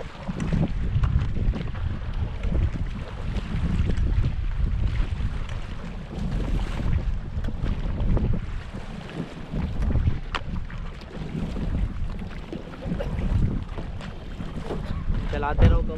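Raft paddling on the Ganga river at Rishikesh: steady broadband rush of water and wind noise close to the microphone, with shouted group commands to paddle forward in unison heard intermittently throughout.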